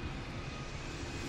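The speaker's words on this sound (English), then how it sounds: "Airplane." Airplane flying overhead, a steady broad engine roar heard from a car near a highway, constant and moderately loud throughout.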